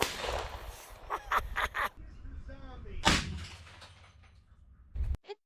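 Gunfire from 440-grain subsonic rounds aimed at a zombie target: several sharp, loud cracks in quick succession, one more crack after a pause, and a short burst near the end, with faint voices between the shots.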